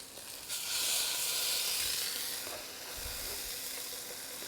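Stuffed chicken browning in a hot skillet, giving a steady bright sizzle and hiss that swells after a soft placement thump and carries on evenly, close and moderately loud.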